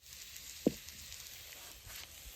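Ivy gourd (telakucha) slices frying in oil in a pan give off a faint, steady sizzling hiss, with one soft clack partway through.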